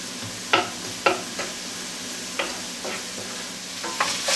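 Vegetables sweat in a pan for deep dish pizza: a low steady sizzle broken by several sharp spoon or spatula taps against the pan, close and clear with no talking.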